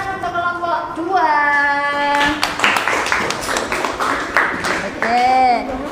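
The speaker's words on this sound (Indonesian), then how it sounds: "tepuk tangan untuk kelompok 2" A classroom of students in a coding and artificial intelligence lesson claps for group 2 in a short, close burst of applause, framed by a teacher's speech before and after.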